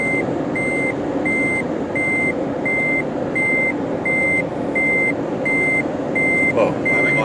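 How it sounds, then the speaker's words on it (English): Reversing beeper of a Toyota Prius, a single high electronic tone repeating at a steady regular rhythm about twice a second over constant road and cabin noise. "If I could change one thing about the Prius, it is that it would have no beeper whatsoever."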